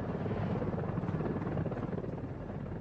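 A Russian Mi-24 Hind helicopter gunship in flight, a continuous heavy rotor thrum and engine roar with rhythmic blade pulsing, steady and fairly loud with no voices.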